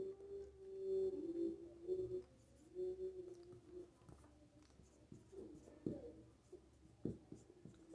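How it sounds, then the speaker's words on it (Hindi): A marker or chalk writes on a board during a physics lesson on the Van de Graaff generator, giving a close, scratchy, squeaking sequence of strokes with short pauses, quiet and unaccompanied by speech. "तो यहाँ पे इसका उपयोग मैं लिख देता हूँ"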